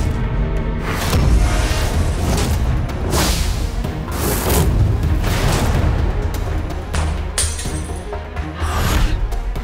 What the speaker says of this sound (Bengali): গুলি কেন চলছে?